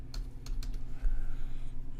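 Fast, light typing on a computer keyboard while entering a file name, with several bursts of key clicks over a low steady hum, close and moderately quiet.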